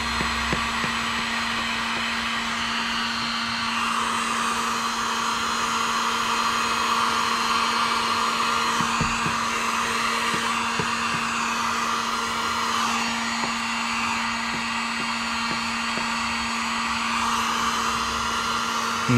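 A heat gun blows steadily at close range for the whole stretch while window tint film is shrunk onto the back window of an SUV, a constant loud airy roar with a faint low hum beneath.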